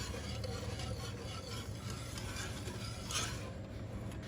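Sugar being stirred in a pot to dissolve it before the gas is lit, a continuous close gritty scraping and swishing with faint metallic contact, steady throughout without talk.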